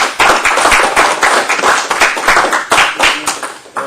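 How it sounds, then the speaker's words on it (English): An audience at a town board meeting gives veterans a round of applause, with loud, close, steady clapping from many hands that continues throughout. "How about another round of applause"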